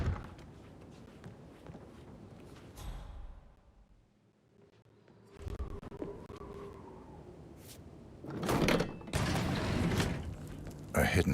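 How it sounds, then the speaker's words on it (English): Hidden door mechanism in Hitman 3 grinding and creaking open, with mechanical clunks and a low scraping slide, then louder thumping bursts near the end; quiet between parts. "A hidden door."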